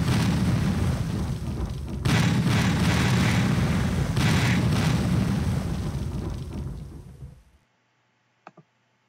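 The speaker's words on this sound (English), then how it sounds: "Tons of explosions." Dense, continuous booms and crackling blasts from the video game Interactive Buddy run together for about seven seconds, swell twice, then cut to near silence with a couple of faint clicks at the end.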